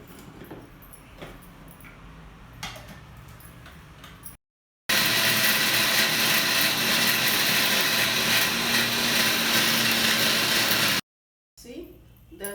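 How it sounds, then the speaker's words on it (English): A mixie grinding small onions, tomato and sambar ingredients into a paste for a Tamil Nadu style meal, a loud steady motor whir running unbroken for several seconds after a quieter stretch, then cutting off. "Now grind all these together to a paste in your mixie."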